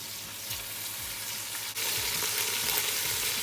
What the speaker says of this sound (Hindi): and we will now stir it.